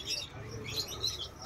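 Holland Jacobin pigeons in a loft, soft faint cooing and short chirps over a low murmur, close and quiet.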